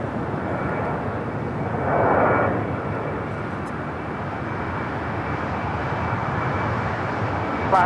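A Boeing 787 Dreamliner airliner from Seoul touches down on runway 24 at LAX, its broad engine roar steady and loud throughout, swelling briefly near the two-second mark, with no talk over it.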